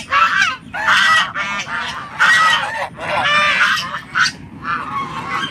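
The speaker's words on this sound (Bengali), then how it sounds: "দেখেন এখানে প্রচুর পরিমাণ রাজহাঁস" A large flock of geese honks loudly and close by at a riverside goose farm, with overlapping repeated calls coming in bursts, one after another, with no break in the noise.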